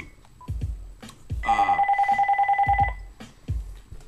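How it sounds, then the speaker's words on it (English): A phone rings with a steady pulsing electronic tone for over a second, surrounded by brief bursts of speech before and after. "my phone is ringing"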